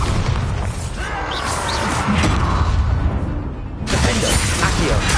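Bombarda explosion spells in the video game Hogwarts Legacy during combat, a dense loud roar of blasts, shattering debris and whooshes, dipping briefly before surging again.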